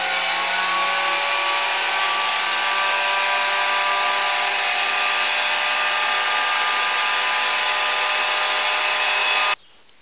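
An electric mixer whirs loudly and steadily, whisking egg whites for meringue, then cuts off abruptly near the end.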